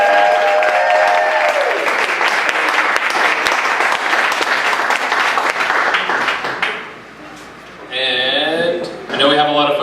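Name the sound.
audience applause at awards ceremony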